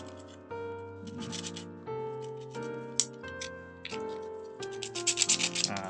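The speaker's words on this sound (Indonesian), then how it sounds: "Lalu di tengahnya juga kita bersihkan pakai amplas kasar guys" Coarse sandpaper rubs against the middle of a switch part in steady back-and-forth scratchy strokes, close and fairly quiet, over a sustained musical backing.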